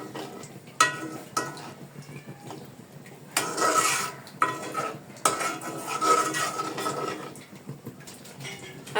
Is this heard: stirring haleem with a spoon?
yes